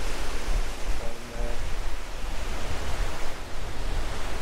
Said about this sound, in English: behind me you can see the Atlantic Ocean